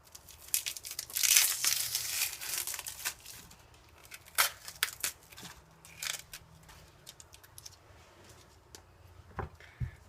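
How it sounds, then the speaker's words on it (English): Papery onion skin peeled off and dropped into a bowl while dicing, giving bursts of dry crinkling and tearing up close, loudest early on, then scattered softer rustles and small knocks. "Peeling off the skin and putting it right into my garbage bowl."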